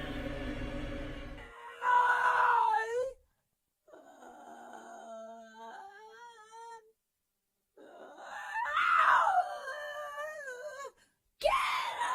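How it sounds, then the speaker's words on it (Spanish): A woman's high, wavering screams and anguished wails come in several drawn-out bursts, separated by short silences. "Eran gritos que parecían provenir de una mujer, y ésta estaba sufriendo."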